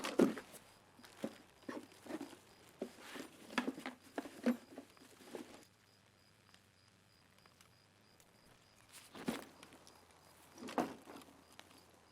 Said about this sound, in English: I thought that was a footstep. It's just rain.